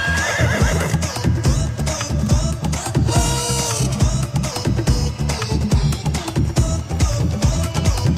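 A horse in a Hindi comedy film scene neighs loudly and repeatedly, shrill whinnies over busy background music, with clattering hoof-like beats throughout.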